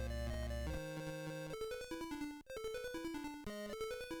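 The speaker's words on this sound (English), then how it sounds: "I think this jump sound was a really good choice on the dev's part." A video game jump sound: bright chiptune-style tones in quick stepped melodic phrases, a short jingle that repeats with brief gaps, loud and clean with no talking.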